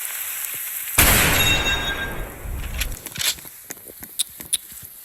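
Video game gunfire begins with one sudden loud blast, followed by a sharp burst of shots and a scatter of smaller cracks and pops that fade, with no talking.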